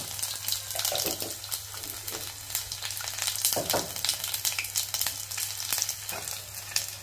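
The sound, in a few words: garlic and cumin frying in oil for prawn curry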